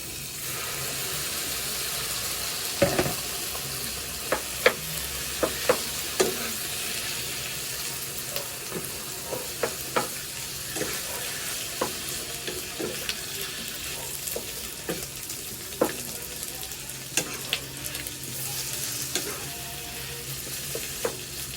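Meat fries in a home pan with a continuous close sizzle, punctuated by sharp clacks and scrapes of a utensil stirring at irregular intervals, with no talk.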